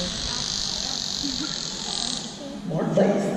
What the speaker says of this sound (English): Squeaks and squawks, absolutely.